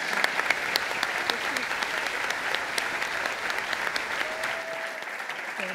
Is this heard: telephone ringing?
no